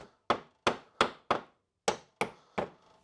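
A hammer flattens staples left by a heavy-duty staple gun in flooring work: seven sharp, close taps in an uneven rhythm with short silences between, and no voices.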